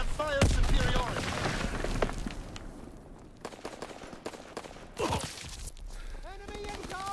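Gunfire in Call of Duty WW2, with sharp shots and bursts at the start and again near the five-second mark over a steady battlefield din, while voices talk throughout.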